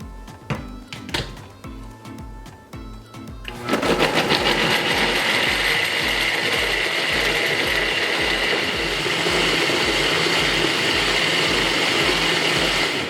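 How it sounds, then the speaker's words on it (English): A kitchen blender roars into action after a few seconds of clatter, then keeps whirring loudly and steadily while chopping jalapeño and serrano peppers with salt for avocado salsa. "and then your jalapeño and your serrano peppers. And I'm going to blend."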